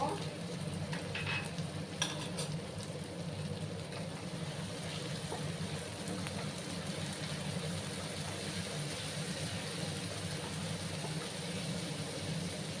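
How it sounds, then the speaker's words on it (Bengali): Ginger, garlic and green chili paste frying on low gas flame, a steady soft sizzle with occasional stirring scrapes, faint and continuous throughout. "আদা রসুনের যে কাঁচা গন্ধটা না যাওয়া অবধি আমি একটু কষিয়ে নেব"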